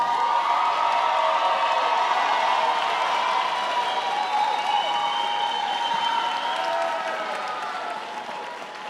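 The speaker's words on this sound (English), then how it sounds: "Can we give a round of applause for our Robichaud graduates?" Sustained loud applause and cheering from a large crowd honoring high school graduates at a 2025 graduation ceremony, steady for most of the stretch and easing slightly near the end.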